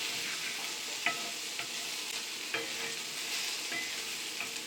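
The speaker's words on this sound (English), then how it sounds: "Just giving that a quick sizzle" Onions sizzle in a frying pan, a steady soft hiss under the occasional light scrape and clack of a utensil stirring them around.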